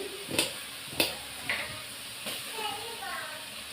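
Onion pieces frying in a pan for paneer butter masala, a soft hiss under a few distinct spoon knocks and scrapes, close and fairly quiet.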